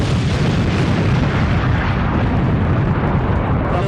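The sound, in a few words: bomb explosion in a VFX video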